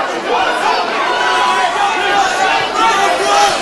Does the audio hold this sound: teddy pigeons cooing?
no